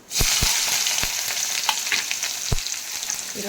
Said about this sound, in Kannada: ನೋಡಿ, ಸಾಸಿವೆ ಚೆನ್ನಾಗಿ ಚಟಪಟ ಅಂತ ಹುರಿತಿದೆ